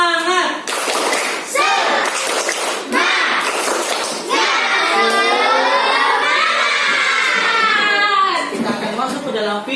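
A group of children shouts and cheers together in rhythmic bursts, with some clapping mixed in, loud and close throughout.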